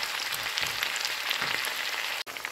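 Beef strips fry in a hot pan with onion and pepper, giving a steady, bright hiss and crackle that holds constant throughout, briefly cut off just before the end.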